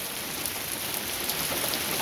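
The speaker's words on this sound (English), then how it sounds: "And it rains." Steady rain pours down outdoors in a garden where vines are being planted, a dense continuous hiss of drops striking surfaces, close and evenly loud throughout with no voices.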